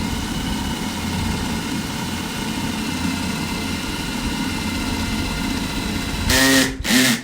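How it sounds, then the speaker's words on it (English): A power drill bores a pilot hole into cedar wood for a wood duck nesting box, its motor a steady whining drone throughout, ending in a brief louder burst and a sharp cutoff. "So see, I just made a pilot hole"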